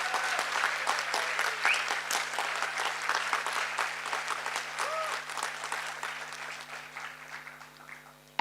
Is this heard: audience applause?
yes